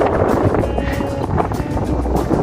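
Strong headwind roars steadily across the microphone of a cyclist riding through the Finike–Elmalı countryside, a loud, continuous buffeting rumble with no pauses.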